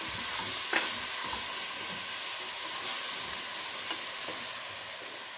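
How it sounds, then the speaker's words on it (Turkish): Finely chopped onions fry in oil inside a pot, giving a steady, close sizzle and hiss with occasional stirring scrapes that carry through the whole stretch, with no talking. "Soğanları da tabağımdaki yağ ile beraber 1-2 dakika kavurmam yeterli olacak."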